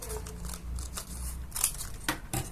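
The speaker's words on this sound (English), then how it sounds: "I'm going to cut out a piece like this big" Scissors snip through a piece of material in a few quick, close, crisp cuts, with a couple of sharper clips near the end, quiet and free of talk.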